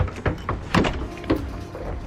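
A house door is handled and locked, giving a few close clicks and knocks spaced unevenly over about two seconds, with no talk.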